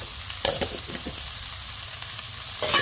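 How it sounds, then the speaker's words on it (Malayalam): Coriander, turmeric, chili powder and garam masala sautéing in a pan, with a constant close sizzle and a few soft stirring scrapes. "നമുക്കൊന്ന് വഴറ്റിയെടുക്കാം"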